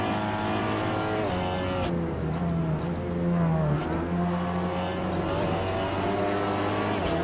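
Seat Leon TCR race car of about 380 horsepower in Assetto Corsa at Watkins Glen, with a loud, continuous engine drone, a brief downshift blip, then steady revving under load.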